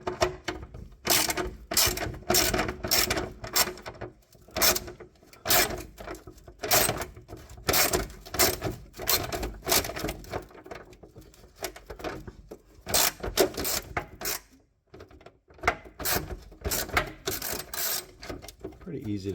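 A ratchet works an 8mm bolt loose from the fog light on a 2004 Ford F-150, giving rapid close clicking bursts in repeated runs with short pauses between them, and a voice talks intermittently.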